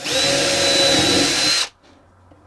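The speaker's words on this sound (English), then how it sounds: "I'm just going to drill a few holes into the other side." A power drill whirs loudly for about a second and a half, then stops abruptly, leaving near silence.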